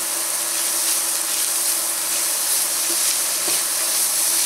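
Garlic cloves sizzle and crackle steadily in hot oil in a cooking pot, a dense, bright frying hiss throughout with faint stirring clinks.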